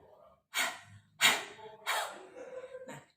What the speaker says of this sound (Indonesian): Huffing itu adalah latihan batuk dengan mulut terbuka.